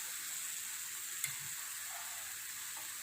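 Karamani poriyal with grated coconut stirring in a hot pan, a soft continuous sizzle with faint scrapes and one small tap, quiet and close, with no talk.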